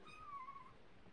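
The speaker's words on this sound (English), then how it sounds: "I think my kitten wants to be in my lap." A kitten gives a single soft, drawn-out meow close by in a quiet room, faint and brief with low background noise.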